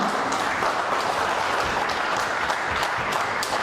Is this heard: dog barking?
no